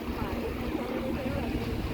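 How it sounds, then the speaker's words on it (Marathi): A fast speedboat ride on the water at Lonavala: a steady, loud rush of engine and churning water mixed with wind buffeting the microphone, continuous throughout with no clear break. "आणि एकदम फास्ट बोटिंग आहे ही, त्यामुळे फास्ट राईड आहे"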